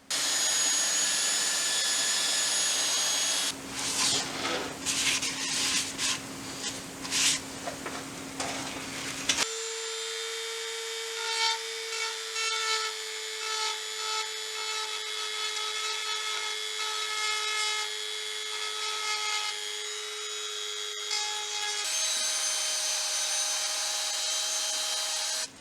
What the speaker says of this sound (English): I'm just going to start going up the sanding grits and finish it now.